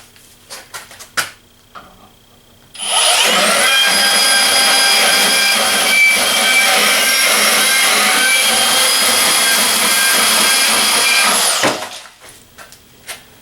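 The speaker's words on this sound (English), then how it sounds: "I'm going to go ahead and slice through this with the M18 Fuel on speed number 5." A Milwaukee M18 FUEL 2729-22 deep cut band saw on speed 5 slices through 2-inch square steel tube with 3/16-inch walls, a loud, steady high-pitched whine and grinding screech sustained for about nine seconds, then stopping abruptly.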